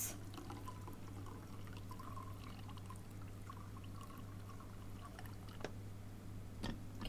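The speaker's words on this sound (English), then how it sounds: "Put some water in the kettle." Water pouring into a kettle as a video game sound effect: a steady liquid pour runs low and even over a constant hum, with a couple of brief clicks near the end and no talking.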